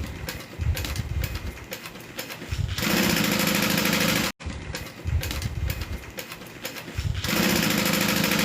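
A sewing machine stitches slowly along a seam, starting in a previous stitch hole and coming around corners, in bursts of steady motor whirring broken by a brief pause before running again.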